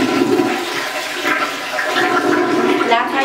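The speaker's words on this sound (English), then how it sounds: "And then you flush." A toilet flushes close by, a loud rushing gush of water that swirls and drains steadily for the whole stretch with no talking over it.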